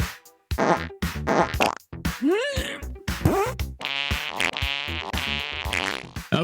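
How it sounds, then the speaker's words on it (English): A comic fart sound effect plays in several quick bursts, buzzy and wobbling with rising and falling pitch, close and loud, with short gaps between. "Do I have a fart sound?"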